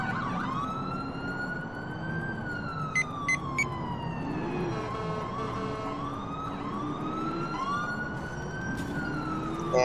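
A video-game police car siren wails continuously in rising and falling sweeps over a steady engine rumble, with a few sharp electronic blips along the way.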